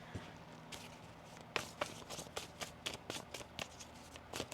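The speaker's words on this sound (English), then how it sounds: "One more shuffle here." Tarot cards being shuffled, a run of crisp papery riffles and snaps in quick irregular bursts over a quiet room background, close and fairly soft, with no talking.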